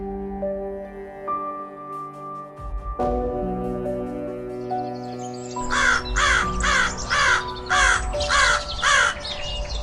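Crows caw repeatedly in a steady series of harsh calls over sustained musical tones, the cawing fairly close and loud.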